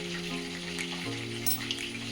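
Chicken fries in hot oil sprinkled with cumin, coriander and chili powder, giving a steady close sizzle with crackling pops over a low humming tone.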